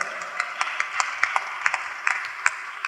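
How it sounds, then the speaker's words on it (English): Scattered, thin clapping from a small audience at a panel conversation on designing a sustainable world, individual claps ringing out at an uneven pace, fairly quiet and without talk. "yes, you can applaud"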